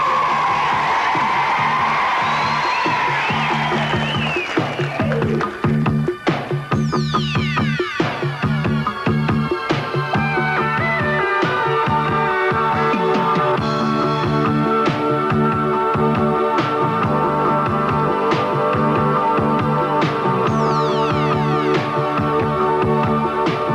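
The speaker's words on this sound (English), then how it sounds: "But I tell you what's worth a big cheer." Junior school children at Colneis Junior School in Felixstowe cheer loudly as a crowd, a sustained roar of high shouts, whoops and yells that swells and carries on without a break.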